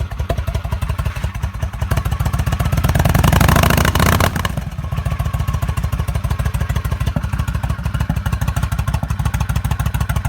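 Stage 2 Honda Shadow ACE motorcycle engine running steadily, a close and loud rapid thumping idle that swells briefly as it revs before settling back into an even beat.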